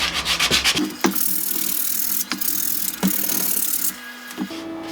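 Timber laminations in an old yacht being sanded by hand to rough up the surface for epoxy, a loud close scratchy rubbing with uneven strokes and brief pauses, no talking.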